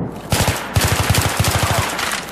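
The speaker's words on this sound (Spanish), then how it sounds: "parece que disparan hacia el edificio en vez de hacia mí" Rapid bursts of automatic gunfire from enemy bots in Battlefield 3, loud and close, with several quick volleys of shots across a couple of seconds.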